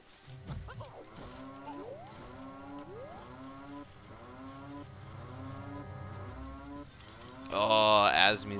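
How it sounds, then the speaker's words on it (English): Cow lowing sound effect from an Ocarina of Time randomizer game, a repeated mooing call looping steadily throughout with a louder burst near the end. "Azmi's got the cow low health sound"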